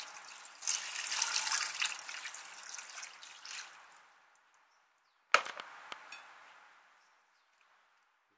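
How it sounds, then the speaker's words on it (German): Beef broth is poured into a roasting pot holding a beef roast, a steady liquid splash for about four seconds that fades out, followed by a clank of the pot or lid. "Dazu geben wir einen guten Liter Brühe."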